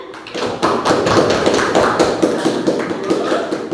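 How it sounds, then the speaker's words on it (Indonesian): Classroom applause from a group of students after a lesson segment on faith, dense overlapping claps filling the space at steady loudness, close and continuous with no talk over it. "Tepuk tangan."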